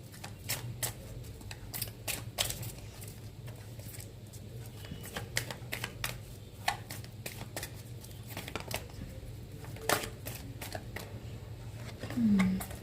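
Tarot cards are handled and shuffled up close, with scattered crisp flicks and riffles and short papery slaps, all under a woman's soft, ongoing talk.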